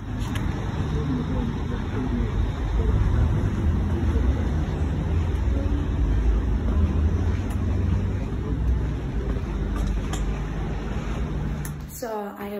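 A car drives around the corner, its steady engine and road rumble heard from inside the cabin, with a sharp clatter just before the end.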